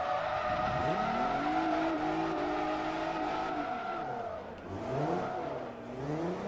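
A Mercedes in Forza Motorsport 3 races with a steady, droning engine note that rises and falls as it shifts, while tires squeal through corners, all without speech.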